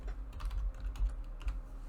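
Someone types a new name on a computer keyboard, a quick run of light, close key clicks in an uneven rhythm with no talking.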